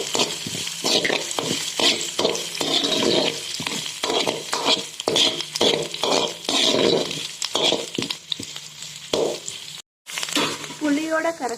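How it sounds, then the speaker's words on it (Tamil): Curry leaves and garlic crackling in hot oil for a sardine gravy, with frequent scraping stirs and clinks of a spoon against the pan, a voice talking over it and one brief silent gap near the end. "இப்போ கொஞ்சம் கருவேப்பிலை போட்டுக்கோங்க"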